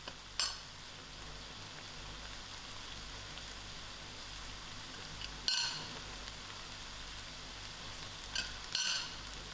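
Browned lamb mince with spices frying in a pan, a faint, steady sizzle with a few louder clatters of stirring, quiet and close with no talking.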